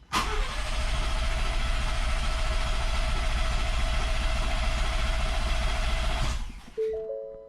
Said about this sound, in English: press the start button, it'll crank the engine without it starting so we can prime the oil system